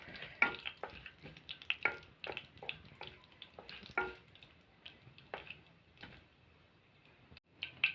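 Mustard seeds and cumin spluttering in hot oil for a drumstick thokku, sharp scattered pops and crackles at an uneven pace, close but soft, with brief gaps between bursts.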